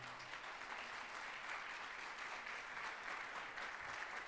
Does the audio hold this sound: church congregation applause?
yes